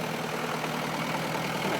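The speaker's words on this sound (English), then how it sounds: "My favorite tractor." A farm tractor engine idles with a steady, close, low mechanical rumble and no voices over it.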